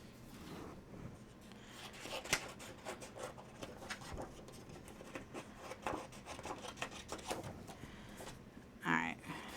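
Scissors cut paper for a Halloween coffin album craft, a quiet run of close snipping and rustling, faint and continuous, ending with a brief louder rustle.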